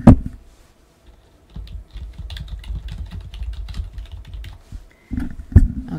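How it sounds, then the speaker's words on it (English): Typing on a computer keyboard while naming a new quilt-design project, a steady run of soft key clicks lasting several seconds after a brief bump at the start, with a couple of louder knocks near the end. "And I'm going to type a name."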